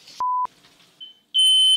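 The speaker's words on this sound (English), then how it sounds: "Now our smoke alarm's going off." Sharp electronic beeps from a kitchen smoke alarm set off by frying bacon, a short tone followed by a higher sustained pitch, loud and close, like an alarm chirping.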